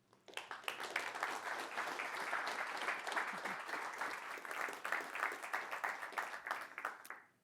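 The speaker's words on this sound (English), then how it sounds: "Please give a warm round of applause for Helle." Audience at a Nordic sustainable construction session applauding a speaker as she is introduced, a steady round of many hands clapping that rises quickly, holds evenly, and fades out at the close.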